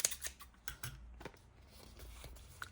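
Scissors snip through collage paper in a few crisp, separate cuts at close range, with light rustling of paper between them.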